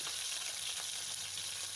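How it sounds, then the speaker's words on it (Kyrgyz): Meat sizzles in hot oil in a pot for Korean pigodi, a dense, steady frying hiss with faint stirring, close by and without any voices. "Ал үчүн 70-80 грамм суу майды ысытып алабыз жана этибизди салып жакшылап аралаштырып алабыз."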